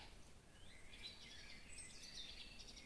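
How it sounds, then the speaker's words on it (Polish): Birds chirp and trill faintly in the distance in a garden, a few overlapping high calls over a soft outdoor hiss. "Posłuchajmy tutaj jak śpiewają ptaki."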